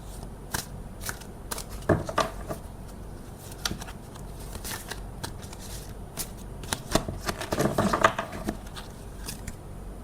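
Tarot cards are shuffled by hand in a steady stream of soft riffling and papery slaps, with sharper flurries now and then, heard close and alone without talk.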